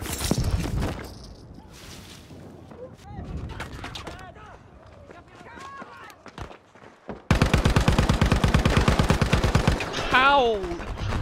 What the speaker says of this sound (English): You start shooting first, and you still can't kill the guy